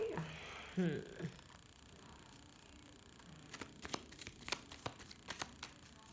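Tarot cards being shuffled by hand, a few soft papery riffles and crinkles early on, then quieter scattered card snaps and flicks at close range.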